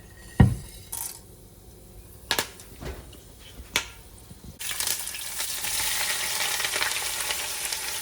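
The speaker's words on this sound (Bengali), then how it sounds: "তারপর যাবে লং 7-8টা এবং সাথে 10-12টা গোলমরিচ" Cloves and black peppercorns drop into hot oil with a few sharp crackles and pops, then a steady loud sizzle of frying spices builds and continues, with no voices.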